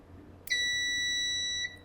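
A power supply buzzer beeps once with a steady, piercing electronic tone lasting just over a second while 12V is forced into a shorted power stage of a Gigabyte GeForce GTX 1070 Mini ITX OC graphics card.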